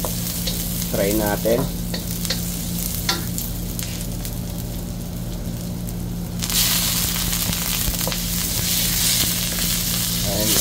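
Pako fern frying in a pan, with a dense steady sizzle and stirring scrapes, a brief spoken remark early on, and the frying growing louder and brighter in the second half.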